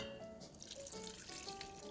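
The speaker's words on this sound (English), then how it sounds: "We're going to go ahead and pour in our yeast" Yeast mixture pours into a stand mixer bowl fitted with a dough hook. The liquid makes a soft, continuous trickling splash, quiet and close, without any voices.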